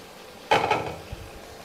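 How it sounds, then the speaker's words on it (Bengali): A metal lid lifted off a cooking pot where bottle gourd is being fried for a lentil dish, giving a single close clatter followed by a faint knock. "ঢাকনাটা আমি খুলছি।"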